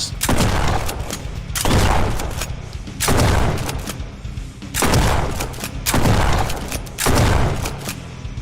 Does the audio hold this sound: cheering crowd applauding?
no